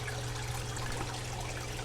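Steady flow of water in an aquaponics setup growing lettuce, a continuous close trickling wash with a low constant hum beneath it and no voices.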